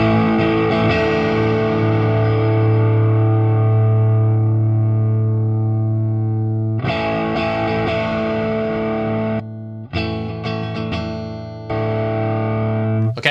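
Distorted electric guitar through a digital amp with a Tube Screamer drive pedal: sustained overdriven chords ring out loud, then several shorter struck chords with brief gaps between them.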